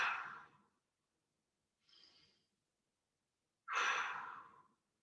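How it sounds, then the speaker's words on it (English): Deep breaths drawn in through the nose during a strength workout session come as three separate close breaths: one long, a short faint one, then another long, loud inhale, with silence between them. "Big breath in through the nose."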